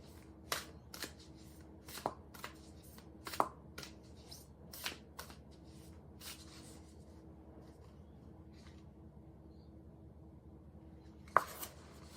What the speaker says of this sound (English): I just feel guided to draw a card from Beyond Lemuria Oracle cards.